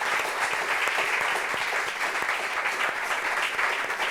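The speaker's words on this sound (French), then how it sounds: "Applaudissements." Studio audience applauding steadily on a French television talk show as a guest is welcomed, dense sustained clapping at full level throughout with no pause.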